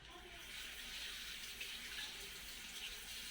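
A continuous hiss of water running or pouring, fairly quiet and even for a few seconds, with no talking.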